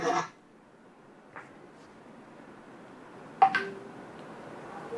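Phone tones from an unmuted participant's phone in an online class: a brief burst of beeping at the start, a faint blip, then another short cluster of tones, over a low background hiss.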